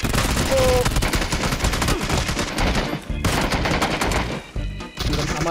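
Gunfire in a video game fills the clip with rapid, sustained bursts over a dense game soundscape, loud and nearly continuous with a couple of short breaks.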